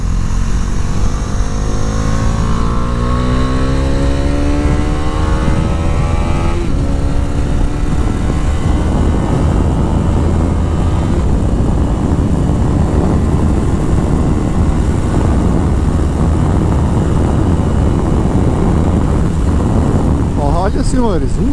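A Bajaj Dominar 400 motorcycle engine pulls and accelerates while riding through a gentle curve, its rising drone steady and loud against heavy wind rush, with the pitch climbing as the revs build.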